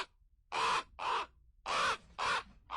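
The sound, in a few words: crows or ravens calling in the woods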